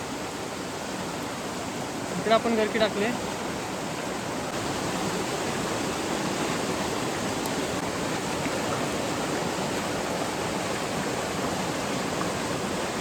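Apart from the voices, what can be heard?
flowing stream water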